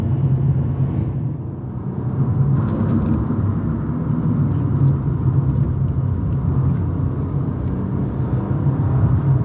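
Steady, loud engine drone from a front-wheel-drive car in a racing video game held at full throttle through corners, a continuous low rumble with little change in pitch.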